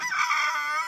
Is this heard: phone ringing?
no